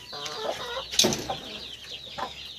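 Bantam chickens cluck and chatter at feeding time, a few nearby clucks and one louder squawk over a quiet rural background, no talking.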